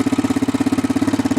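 A Honda TRX400EX ATV engine idles in neutral after warming up, its valves in need of adjustment, thumping in a loud, close, steady rapid pulse with no voices.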